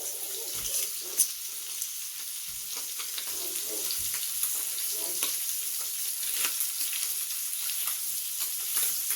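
Scallops sear in a hot pan with a steady, close, bright sizzle throughout, broken by a few faint clicks and shifts and with no talk.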